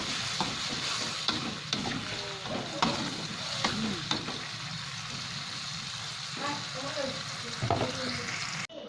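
Pieces of tamarind stirred into a sizzling frying pan of Acehnese tuna stir-fry, a steady hiss of frying broken by repeated scraping and clacking strokes of the spatula.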